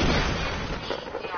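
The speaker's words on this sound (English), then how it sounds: "Oh, I'm getting shot." Gunfire in a PS4 shooter game, a brief, dense burst of loud shots.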